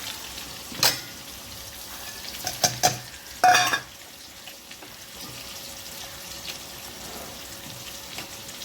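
Potatoes fry in a pan until reddish-brown, with a few clattering, scraping stirs in the first seconds and then a steady, quieter sizzle that carries on alone, close up and without speech.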